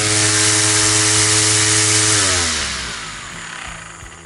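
A Bosch lawn mower's electric motor, powered from a bench supply set to 16 V, runs with a loud steady buzzing whine whose pitch shifts slightly before fading as it winds down.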